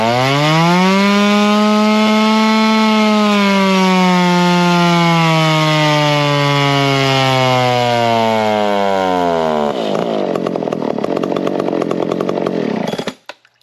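A modified 55cc classic yellow race chainsaw runs at a loud, close, screaming high rev that slowly falls in pitch, then drops to a rough, choppy idle and cuts off abruptly near the end.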